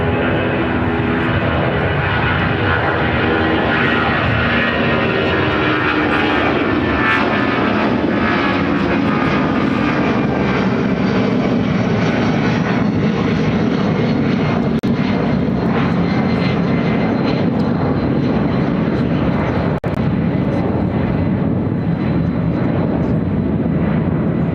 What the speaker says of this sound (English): Delta Airlines 1178 taking off to Atlanta